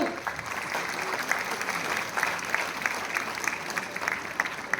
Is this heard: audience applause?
yes